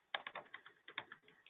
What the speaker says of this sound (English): I'm typing fast again.